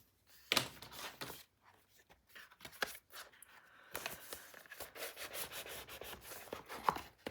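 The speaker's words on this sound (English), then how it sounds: "pull the tape on the rest of this, and then I can burnish." Quiet rubbing and scraping as adhesive tape is burnished onto chipboard for a 9 x 9 mini album, in intermittent close strokes with a few sharp ticks and pauses.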